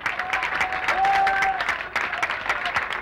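Audience applause fills a Martinique television special devoted to a Haitian band, a dense steady patter of many hands with faint crowd noise and a brief sustained tone beneath.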